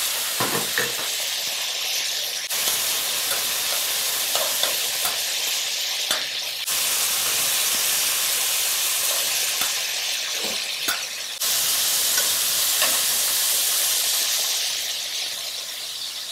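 Pen shell scallop adductor stir-fried in a hot pan, a loud continuous hiss and sizzle with intermittent scraping and stirring clatter, the intensity jumping up in a few sudden steps.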